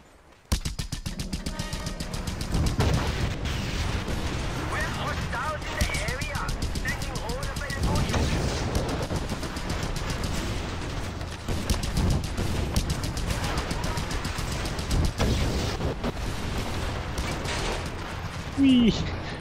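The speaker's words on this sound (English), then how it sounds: "Right through all the explosions." Rapid bursts of gunfire and explosions fill a busy video game fight, repeated sharp shots layered over dense rumble, with a voice talking throughout.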